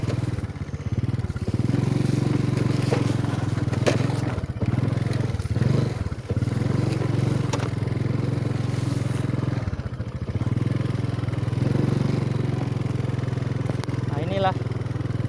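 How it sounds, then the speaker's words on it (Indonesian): A motorcycle ridden slowly in first gear on an open plot of land, its engine droning steadily with clattering and bumps, someone talking over it throughout. "Kalau teman-teman mau cepat bisa naik motor ya belajarnya di tempat-tempat begini. Masuk gigi 1."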